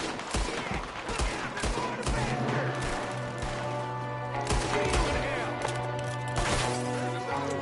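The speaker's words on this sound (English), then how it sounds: "There's another one shooting from the window." Gunfire crackles from a window in Red Dead Redemption 2: repeated close shots and bursts amid a busy game mix with music, loud and irregular throughout.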